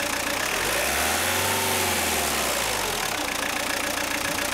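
A car engine rises from idle into a revving climb and then settles back down, loud and continuous at close range, during a mass air flow sensor test.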